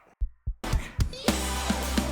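A heartbeat sound effect layered into a pop rock song thumps in two soft beats, then the full mix swells in with the pulse continuing underneath at a steady rhythm.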